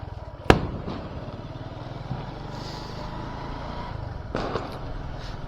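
A Diwali firecracker goes off with one sharp, loud bang early on, followed by fainter pops and crackles against a steady background rumble, with no talking.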